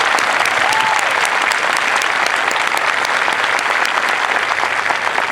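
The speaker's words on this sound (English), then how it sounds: "So please join me in a round of applause for them." Steady, dense applause from a large audience at an Air Force basic military training graduation parade, continuous and loud throughout with no break.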